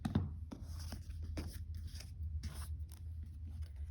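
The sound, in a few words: cutting off corners of quilt fabric block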